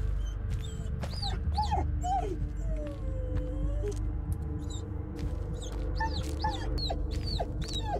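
A dog in the Blair Witch video game whimpers and yelps with high wavering whines and a drawn-out howl, repeated over a rumbling background of footsteps and ambient noise.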